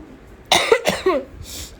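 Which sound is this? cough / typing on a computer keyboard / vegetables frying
cough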